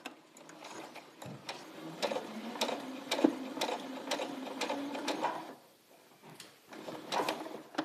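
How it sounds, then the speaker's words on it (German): A borrowed sewing machine stitching a dirndl from traditional costume fabric, steady quiet whirring broken by a regular series of sharp ticking needle strokes, close by with no talk, pausing briefly near the end. "beschließt er, für Eva ein Dirndl zu nähen"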